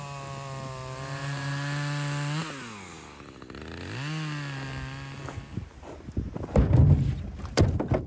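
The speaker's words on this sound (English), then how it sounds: "fire up a little chainsaw in the truck" A small chainsaw runs close by at a wood yard, its high engine whine holding steady, dipping and rising as the throttle changes, then giving way to clattering handling noises.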